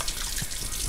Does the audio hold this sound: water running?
yes